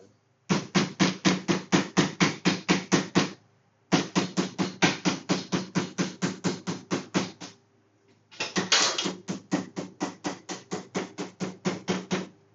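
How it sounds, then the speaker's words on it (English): Frets hammered into a guitar neck during a do-it-yourself refret, three long runs of quick, even, sharp taps, close and loud, each burst a dozen or more strikes with short pauses between runs and no talking. "we're gonna go ahead and hammer a little bit more so we stay in"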